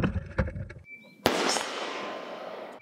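Gunfire at the Army Special Warfare School combat shooting range: a few light clatters, then one sharp, loud report followed by a long ringing decay that carries across the range.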